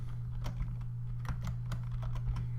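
Quiet keyboard typing, a handful of quick light keystrokes over a steady low electrical hum, close and without speech.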